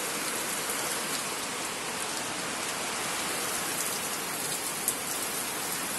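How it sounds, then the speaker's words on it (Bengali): Heavy rain pours down on a farm beside a poultry shed, a dense, even roar of drops on surfaces that holds steadily throughout, with no voices over it. "দেখেন কি বৃষ্টি নামছে রে"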